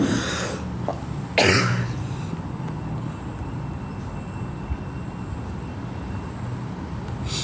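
A single sharp cough bursts out near the start, followed by a steady low background hum with no talking.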